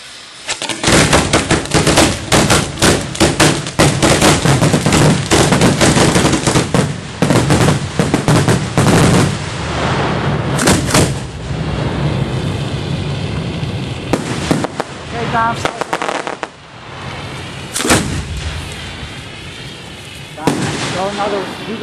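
Fireworks exploding in Simsbury, Connecticut, heard from the ground, with dense crackling volleys and loud bangs sustained for many seconds, then thinning to scattered booming bursts.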